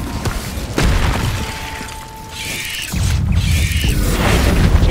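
A fiery spell burst in the wizarding game Hogwarts Legacy: a loud whooshing, crackling blast with booming low rumble, surging in waves and flaring again after a short lull.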